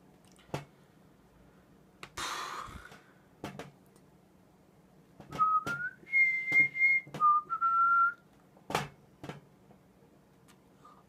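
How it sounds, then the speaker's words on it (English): Someone whistles a short melodic tune in a few clear sustained notes, with scattered clicks and a brief noisy burst around it during an Agar.io game session. "That song that I was whistling earlier."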